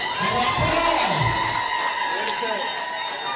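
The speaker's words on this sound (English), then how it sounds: "can we show him how to welcome by giving him a big round of applause?" A crowd at a lecture marking Nigeria's 65th Independence anniversary cheers and shouts with scattered whoops, loud at first and gradually easing off, applause blended into the broad noisy roar.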